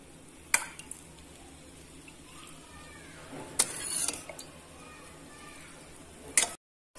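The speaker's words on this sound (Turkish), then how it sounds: "Sıcak kekin üzerine soyan şerbetimizi dökelim." Cold syrup pours over a freshly baked hot cake for a Cyprus-style dessert, giving a faint, steady soft hiss with a few small clicks and knocks, close by and quiet.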